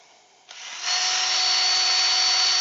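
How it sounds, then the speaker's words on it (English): Power drill switched on beside a wood-turning setup for an earring stand, starting with a click and rising into a steady, loud, continuous whine that holds alone to the end. "Turn the drill on."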